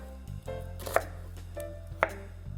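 A knife chops an onion into 1 cm strips during a Korean cooking class, giving two distinct knocks against the board about a second apart over a low, steady background hum.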